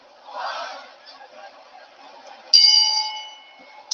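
A timekeeper's bell rings once at a wrestling match, a sharp bright clang that rings out and fades over a couple of seconds, following a stretch of crowd noise and muffled voices.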